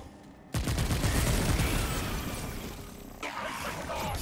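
Rapid handgun fire in the video game Remnant 2 bursts in after a brief quiet start, a loud, dense stream of overlapping shots that rattles on steadily and swells again near the end.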